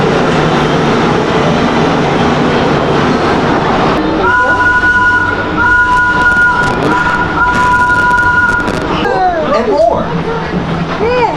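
Rafiki's Planet Watch train at Disney's Animal Kingdom rolls with a steady rumble, a sustained high metallic squeal rising midway, and crowd chatter running underneath throughout.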